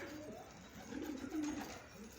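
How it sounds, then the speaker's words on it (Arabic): Domestic pigeons coo softly in a loft, a few low, rolling calls rising and falling over about two seconds against quiet background noise. "شايفين ما شاء الله شوية حمامات مرتبات"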